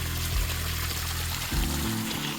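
Water pours steadily out through a widened spillway of a small backyard dam, a continuous rushing flow heard up close with no voices over it.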